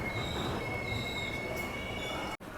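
Hampi Express train wheels squeal loudly at Ballari junction: a sustained, piercing metallic whine holds steady over rumbling rail noise, then cuts off abruptly near the end.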